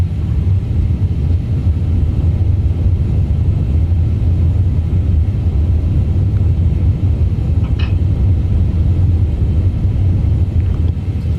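Airbus A350 reverse thrust roaring just after touchdown in a flight simulator game, a loud, steady low rumble that fills the whole stretch without letup.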